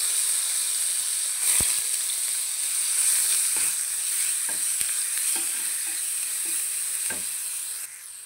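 Garlic frying in hot oil while being stirred in a chicken bhuna, with a constant close sizzle broken by several sharp scraping stirs.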